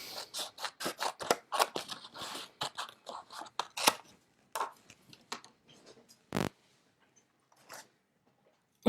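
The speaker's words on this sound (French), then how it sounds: "Donc là, elles vont passer direction la machine de découpe." A small die-cutting machine cuts paper flower shapes with a rapid run of crisp snipping, crunching cuts that thin out into a few isolated clicks and a near-silent end.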